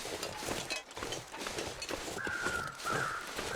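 Crows cawing in The Long Dark survival video game, a few harsh calls rising in the second half over a steady wind-like background, fairly close.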